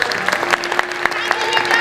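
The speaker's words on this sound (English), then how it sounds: "let's have a bigger round of applause for Alpha" A crowd applauds at a SoCal Game Expo panel with Marvel Rivals cast members, a steady patter of many hands with sharper claps punctuating it and voices and cheering mixed in throughout.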